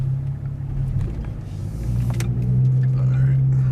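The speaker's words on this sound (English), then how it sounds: "BBK. Instantaneous throttle response." A Ford Mustang engine fitted with a BBK 73mm throttle body runs with a loud, low rumble that builds steadily into a rev toward the end, heard close up.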